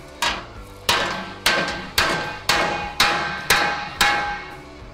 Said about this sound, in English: He's going to reach for the hammer